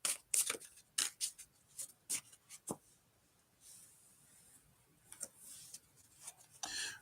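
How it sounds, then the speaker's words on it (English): Tarot cards being shuffled by hand, a run of crisp, quiet riffling snaps and flutters in bursts, close up with a pause in the middle. "I'll give it a few more shuffles."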